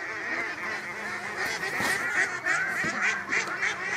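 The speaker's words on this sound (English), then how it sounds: "I've just stumbled across this little duck pond." A large flock of ducks or geese on a pond at night makes a dense, continuous chorus of overlapping honks and quacks, with louder calls standing out near the end.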